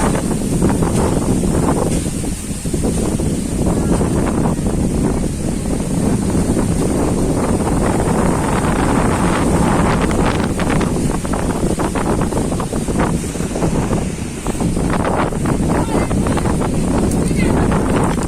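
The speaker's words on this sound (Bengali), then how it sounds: "বিরাট জোরে ঘূর্ণিঝড়ের মতো হাওয়া বইছে" Strong cyclone-like wind blowing beside a pond, heavy continuous buffeting and roaring across the microphone for the whole stretch, with a voice faintly present under the gusts.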